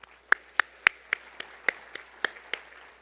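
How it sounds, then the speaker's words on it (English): A few isolated, spaced claps ring out sharply in a quiet conference hall at a transportation summit's opening session, roughly one every quarter second, fading slightly toward the end. "Please help me give another warm round of applause to all of our amazing speakers and our award winners"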